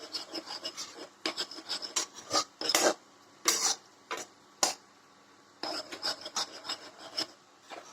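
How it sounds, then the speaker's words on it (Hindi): Flour fried in oil is stirred in a pan for creamy Maggi white sauce, giving bursts of rough scraping and rasping from the spoon against the pan. The bursts come in irregular clusters, close and fairly loud, with short pauses between them. "पहले इसे थोड़ा स्टर कर लेते हैं"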